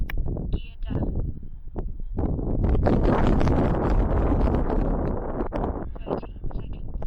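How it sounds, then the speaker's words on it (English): Gusty wind buffeting a microphone outdoors at a model airfield, rising into a loud rumbling roar midway and then easing, with someone talking over it. "it's really getting gusty"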